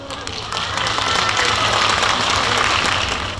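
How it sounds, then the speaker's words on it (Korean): An outdoor crowd at the opening ceremony of the 2024 Yeongdong dried persimmon festival applauds in a dense, steady wash of clapping that holds strong throughout the short clip. "여러분들의 힘찬 박수로 시작해 보겠습니다."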